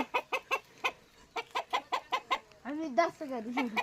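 A red rooster gives a quick series of sharp clucks in an even rhythm, then a longer drawn-out squawking call, loud and close on a farm.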